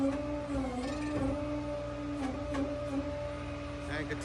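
Flatbed tow truck carrying a truck, hydraulics whining steadily as the bed lowers a car, a sustained mechanical hum with small clanks throughout.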